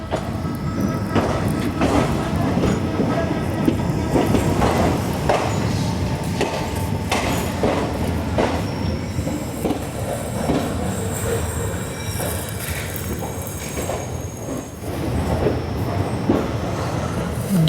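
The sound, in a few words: Rajya Rani Express train departing Jalna station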